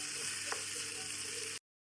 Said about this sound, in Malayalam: അരി ഒന്ന് ജസ്റ്റ് ആയിട്ട് ഒന്ന് ഇതിൻ്റെ കൂടെ നമ്മൾ വറുത്തെടുക്കണം